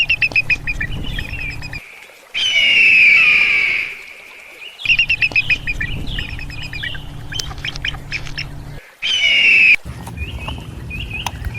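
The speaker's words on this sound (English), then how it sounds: "Eagle." An eagle gives repeated shrill, high calls in two longer bouts of piercing screeches, mixed with rapid chattering and a steady low rumble of outdoor ambience, with no speech.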